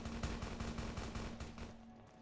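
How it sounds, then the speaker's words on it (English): Distant gunfire in the video game Fallout: New Vegas, a quiet rapid string of shots with a steady hum beneath, each report faint and far away. "Man, I don't like hearing gunfire"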